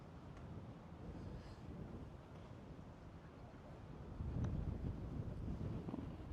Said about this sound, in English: I got a gust of wind. That was a big gust of wind then.